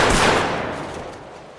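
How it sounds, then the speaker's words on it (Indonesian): Sudden gunfire in a film action scene: a single loud close blast at the start, then a booming echo that fades out gradually over about a second. "dua anak buah Po yang sudah bersiaga langsung melepaskan tembak secara mendadak ke arahnya"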